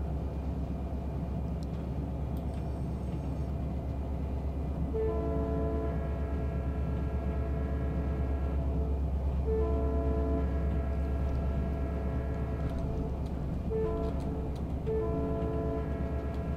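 A freight train rumbles along steadily in the Run 8 train simulator, a loud constant low engine drone with several long blasts of the multi-tone horn sounding in repeated bursts over it.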